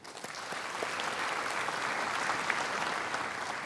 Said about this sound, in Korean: 이분들에게 박수 한번 보내드리도록 하겠습니다